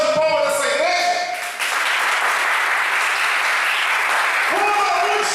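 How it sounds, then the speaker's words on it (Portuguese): Church congregation applauding during a sermon, a loud wash of clapping rising after a voice speaks at the start and continuing as a voice returns near the end. "Posso ouvir uma salva de palmas dessa igreja?"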